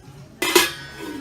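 Metal cooking pots handled in a NOZ discount store in France, a single sharp clank that rings briefly and then fades.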